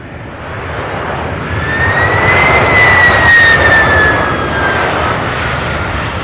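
A brand new Boeing 767 jet airliner passes overhead near Louisville International Airport, its engines building to a loud roar with a rising whine and then fading slowly, heard alone without talk.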